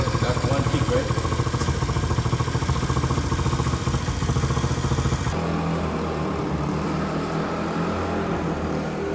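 A Chinese dirt bike engine runs after a single kick start, a loud close putter with steady rapid firing pulses that drops abruptly in level about halfway through, then continues as a lower idle.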